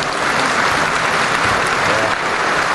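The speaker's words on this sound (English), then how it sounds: "Let's give all these exhibitors one last round of applause" A crowd applauds exhibitors at a livestock market steer show in an arena, steady, loud clapping throughout with no break.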